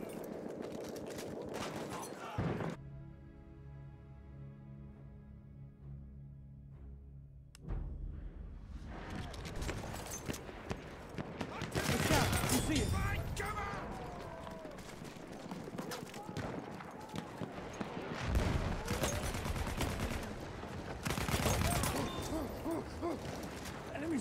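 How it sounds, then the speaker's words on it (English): In a video game, machine guns and other gunfire crackle in loud repeated bursts, with quieter gaps between them, while players talk over the shooting. "Machine gun over there."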